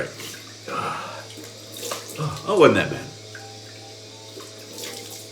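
Cold tap water runs into a bathroom sink for rinsing after a shave with mentholated shaving cream, a loud splashing burst at mid-clip over a steady low hum, with someone talking before and after.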